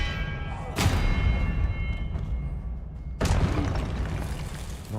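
Expelliarmus spell casts in Hogwarts Legacy, two sharp booming impacts a couple of seconds apart, each a sudden burst with a short rumbling tail over steady game background noise.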